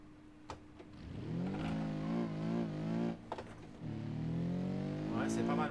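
A car in BeamNG.drive, played on a Logitech G27 wheel, accelerating from a standing start, its engine rising in pitch through the revs, dropping at a gear change, then climbing again, with a voice audible near the start.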